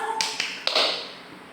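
A classroom of children claps the 'tepuk fokus' focus clap pattern, a few sharp claps spaced apart with a short run at the end, fairly close and otherwise without talk.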